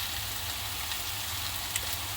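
Steady, close sizzling of hand-torn oyster mushrooms frying in a pan, an even crackling hiss with a low hum beneath and no talking.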